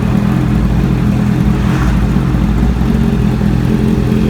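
A motorcycle fitted with an SC Project exhaust revs loudly and close by, a steady dense engine roar holding for several seconds with no talk over it.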